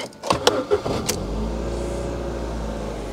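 A Ford Fiesta engine cranks with a few sharp starter bursts, then catches and settles into a steady, low idle rumble close by.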